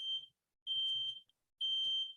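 A smoke alarm sounds in three loud, piercing high-pitched beeps, each lasting about half a second, separated by short silent gaps.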